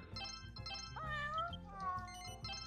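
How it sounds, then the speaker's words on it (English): A cat meows in the video game Dragon Quest Swords: a clear, rising and then falling meow over looping game music. "Stop meowing at me."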